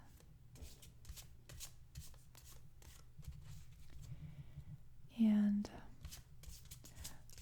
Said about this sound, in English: So I'm just going to do some shuffling now